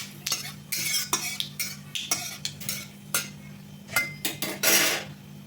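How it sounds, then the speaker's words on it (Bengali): Black mustard seeds and a dry red chilli fry in a pan for a Bengali mango chutney. A utensil clinks and scrapes against the metal in a steady series of sharp taps over a soft, steady sizzle. "ফোড়নটা একটু ভেজে নিচ্ছি"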